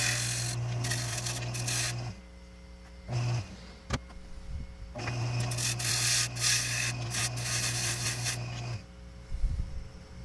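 A pine bowl's rim is sanded by machine, with long whirring passes broken by pauses, a sharp click midway and scratchy rubbing as the abrasive works the wood, close and moderately loud.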